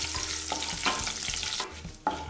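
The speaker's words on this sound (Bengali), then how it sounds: "গোটা মশলাগুলো ভাজা হয়ে গেছে।" Whole spices (cinnamon, cloves, peppercorns, cardamom and bay leaves) sizzle in melted ghee for a vegetable pulao, with close crackling and a few sharp stirring scrapes and clinks.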